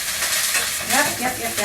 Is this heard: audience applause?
no